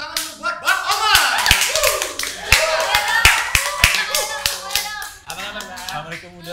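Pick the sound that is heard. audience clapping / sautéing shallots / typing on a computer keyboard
audience clapping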